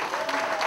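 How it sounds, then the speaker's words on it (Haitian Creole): Audience applause at a concert celebrating the anniversary of Compas Direct music: a brief, dense burst of clapping with voices mixed in. "Applaudissez, s'il vous plaît, applaudissez"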